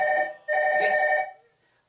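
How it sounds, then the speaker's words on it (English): A telephone rings twice during a live-stream, each long electronic trill steady and fairly loud, the second burst ending and fading into quiet. "Is that your phone?"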